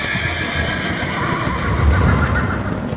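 A horse whinnies and neighs over the drum of hoofbeats, part of a dramatized horror-story scene in which Padre Diego rides off on his handsome horse; the sound stays steady and close throughout, with no talking.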